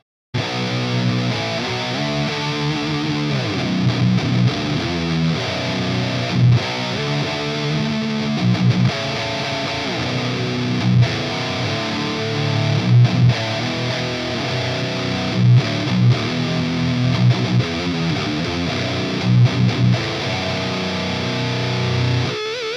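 Heavy, fuzzy distorted electric guitar from an Orange Rocker 15 Terror in 1-watt bedroom mode, grinding out slow doom riffs of held chords and chugs, steady and loud throughout without any voices.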